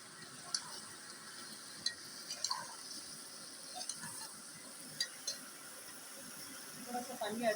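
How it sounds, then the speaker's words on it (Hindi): A little water trickles and splashes into a pan of cooking aloo gobi with faint sizzling and small clinks, a soft, steady background with no voices. "थोड़ा सा पानी ऐड कर रही हूँ"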